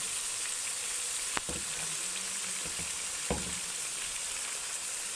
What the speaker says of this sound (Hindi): अब इसके अंदर हम टमाटो ऐड करने लगे हैं